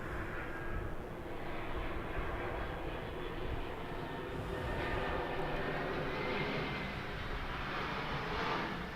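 Embraer ERJ regional jet on a runway at Los Angeles International Airport, its engines producing a steady, loud roar with a broad rumble that holds throughout, no voices.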